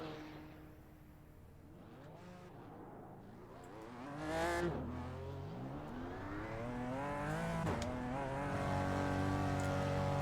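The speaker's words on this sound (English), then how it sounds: "I don't have a good feeling about this engine, if I'm honest, for the sounds of that alone." A sports car in the iRacing Sports Car Challenge at Road Atlanta, its engine suspected of a fault, drones at a distance and then revs up strongly around the middle, holding a steady rising whine to the end with no talk.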